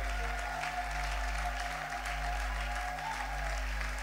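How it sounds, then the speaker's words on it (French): A church congregation applauds for the Lord, with dense, steady clapping from a crowd in a large room over a low sustained hum. "Est-ce que quelqu'un peut encore acclamer cette fois-ci pour le Seigneur?"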